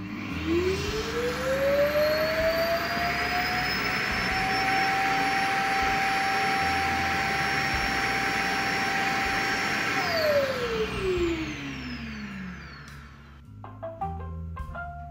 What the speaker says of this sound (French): Choupette va rejoindre la base et va bien sûr vider automatiquement son bac à débris.